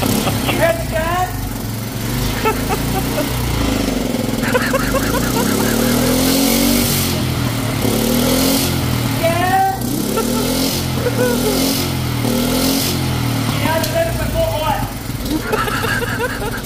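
A Honda motor that had sat unused runs steadily with a constant droning hum and slight revving, close by, while someone talks over it throughout.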